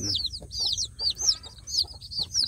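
Native village chicks cluck and cheep in quick, high repeated calls while feeding, close by and continuous with no voices.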